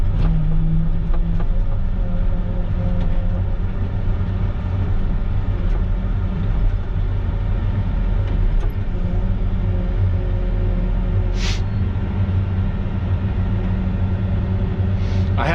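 A CAT 307.5 excavator's diesel engine drones loud and close while digging, a steady low rumble that holds throughout with slight swells in pitch and a few faint clanks.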